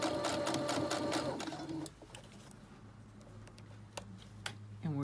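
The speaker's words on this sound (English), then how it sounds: "And we're just stitching along the upper edge of the sleeve." A sewing machine stitches along the upper edge of a sleeve in a fast, rhythmic burst of close needle clatter that stops partway, leaving quiet room tone with a soft hum and a few small clicks.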